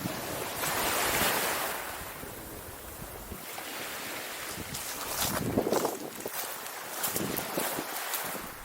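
Wind buffets the microphone on the beach at Eastbourne, with rushing gusts over surf noise that swell and ease throughout, fairly loud and close, with no voices.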